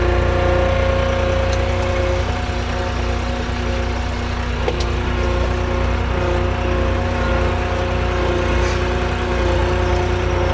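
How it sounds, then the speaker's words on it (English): Tractor hydraulic motors whirring while a 4-in-1 bucket opens and closes, a steady droning hum with the engine idled up just past 1,000 RPM, constant and close, no speech. "So you can hear the whir of the hydraulic motors in action, the hydraulic system."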